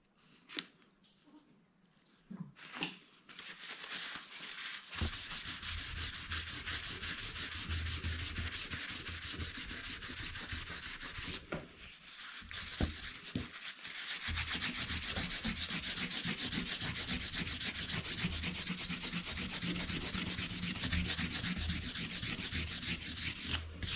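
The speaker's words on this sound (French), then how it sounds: "je me sers de l'embout de mon tube de colle pour étaler" A glue-tube nozzle spreads glue across paper while building a scrapbook album, making a steady, close rubbing and smearing sound that runs almost without a break, interrupted only briefly.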